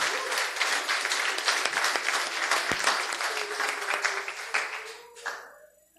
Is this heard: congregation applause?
yes